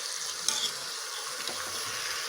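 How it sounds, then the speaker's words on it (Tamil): Chicken pieces frying in a pan, a steady close sizzle with soft scraping and stirring running throughout, no voices. "इस समय चिकन ऐड कर देंगे अच्छे से भूनेंगे"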